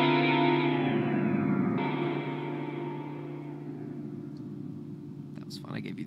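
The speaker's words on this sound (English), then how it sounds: "see what that sounds like with the secondary foot switch" A guitar chord played through an Earthquaker Devices Astral Destiny reverb pedal with the secondary footswitch engaged, swelling into a loud, shimmering wash that sustains and slowly fades, with a brief clatter near the end.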